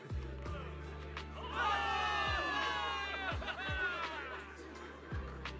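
A video game crowd of soldiers cheers and whoops loudly for victory over steady low background rumble, with a few dull thumps punctuating the excited voices.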